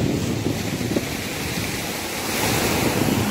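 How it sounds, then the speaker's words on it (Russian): Rough sea waves surge and break continuously at the shore, a loud, steady wash of surf with wind buffeting the microphone, no voices. "Волнуется морюшка сегодня, не к добру."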